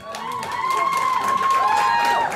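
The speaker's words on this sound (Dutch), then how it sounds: "Mag ik een applaus voor beide dames?" An audience claps and cheers together in a steady, sustained burst, with a ringing tone carried over the crowd noise.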